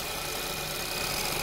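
Seat Ibiza 1.2 TSI petrol engine idling close by, a steady broadband hum with a faint knocking texture and a thin whine, no voices.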